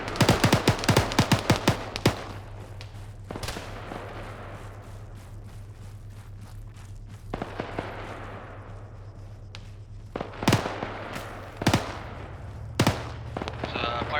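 Gunfire in ArmA 3 squad combat: sharp rifle shots crack in rapid bursts at first, then scattered single shots and short volleys at varying distances over low background noise.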